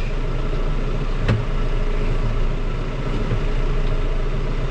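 A tractor engine runs at a steady idle during haying, a constant low rumbling drone close by with a faint knock or two, no talking over it.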